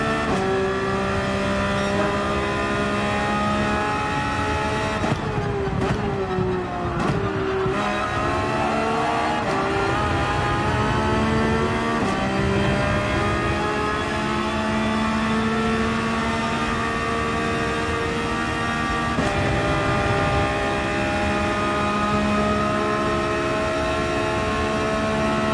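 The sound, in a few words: Porsche 911 driving at Yas Marina Circuit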